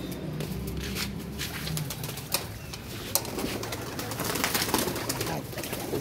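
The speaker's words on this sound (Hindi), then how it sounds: "ये हैं जी बोसी के कबूतर माशाल्लाह, जिनके बच्चे वगैरह लेने के लिए आए हैं" Pigeons coo inside a loft kept by a fancier, soft low warbling coos from several birds overlapping, with occasional sharp wing flaps or clicks and light rustling close by.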